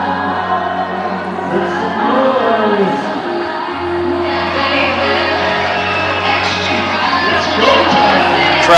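A packed crowd at a men's college basketball game between Spring Arbor and Indiana Wesleyan roars and cheers late in a close game, a dense, loud, sustained wash of shouts and whoops with swells throughout.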